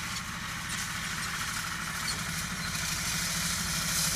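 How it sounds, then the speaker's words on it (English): Green tractor running with a hay tedder behind it on a South Carolina farm, a continuous mid-pitched mechanical hum with rattling, steady and fairly close, with no voices. "The green tractor has a little machine that fluffs the grass up after it's been cut and dried."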